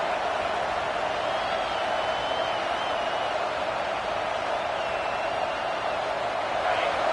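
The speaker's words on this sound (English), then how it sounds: "The roar of the crowd trying to fuel this defense to keep them pinned in their own end." Steady roar of a stadium crowd in an NCAA football video game, a dense continuous wash of cheering that fills the whole stretch at high level, with faint whistle-like tones drifting over it.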